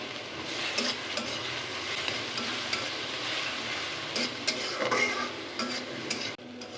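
Dried fish is fried in a pan with onion and garlic for a home-style lotir curry, giving a steady low sizzle under intermittent stirring scrapes and utensil clinks, with no talking.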